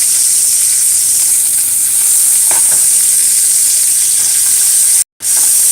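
Franks and mushrooms fry in hot oil with a loud, dense, continuous sizzle and faint clicks as pieces are turned, close by, with a brief dropout near the end.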